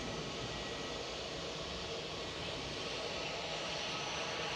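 A Eurowings Airbus A321 jet at Manchester Airport gives a steady, broadband engine roar that holds evenly throughout at moderate distance, with no voices.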